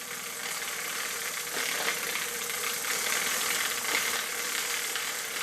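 A bicycle chain runs through a cleaning tool as the pedals turn backwards, giving a continuous gritty rattling whir that holds steady throughout at moderate loudness.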